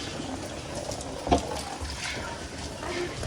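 Water pours straight into a tank during heavy village rain, making a continuous splashing rush, with one brief louder splash and faint voices in the background.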